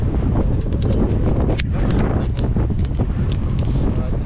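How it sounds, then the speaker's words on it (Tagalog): Strong wind buffets the microphone outdoors, producing a loud, continuous rumbling roar with gusty surges and scattered knocks and clatters throughout. "Hindi na ako hipat sa lakas ang hangin."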